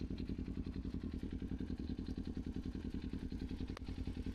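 A Kawasaki Ninja motorcycle idling close by, its engine thumping in a fast, even low-pitched pulse, quiet and unbroken with a single faint click near the end.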